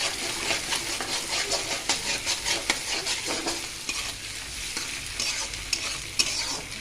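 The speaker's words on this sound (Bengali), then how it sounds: "তারপর আমি দুটো ডিম দিয়ে দিলাম" Two eggs frying with onion, chilli and potato in a pan, being scrambled: a continuous close sizzle with quick rhythmic scraping strokes of a spatula throughout.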